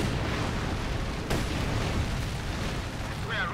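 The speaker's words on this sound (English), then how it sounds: "looks like incendiary artillery going in there" Incendiary artillery shells burst during a Company of Heroes 2 battle, a sharp broadband crack near the middle followed by a dense, rumbling wash of battlefield noise that continues throughout.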